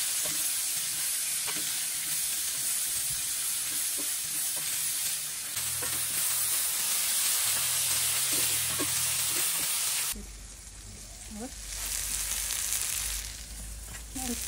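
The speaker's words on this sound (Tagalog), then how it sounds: "Caramelize yung onion." Onions caramelize in a pan while cooking alongside steak, giving off a steady, close sizzle and frying hiss. Occasional stirring clinks and scrapes break through, and a low rumble shifts partway through.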